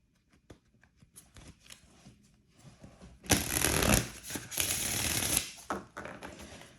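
A deck of playing cards being shuffled, a few soft riffles and taps at first, then a loud sustained burst of riffling in the middle, with a few lighter shuffles trailing off near the end.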